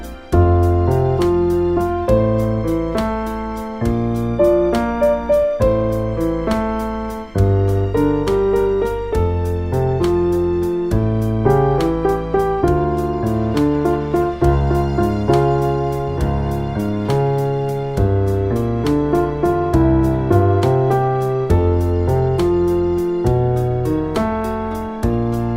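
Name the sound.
piano playing a song section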